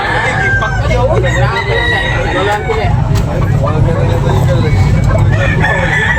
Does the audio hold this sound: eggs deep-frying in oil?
no